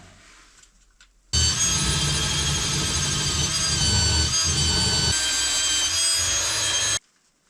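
A power grinder cuts metal off a part on a Kirovets tractor, a loud, continuous abrasive whir that starts abruptly, holds steady for several seconds close by and then cuts off.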